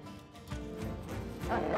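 A dog in the medieval tactics game Battle Brothers gives a short growling bark-yip burst over continuous in-game ambience and music, about two seconds long, moderately loud and without talk.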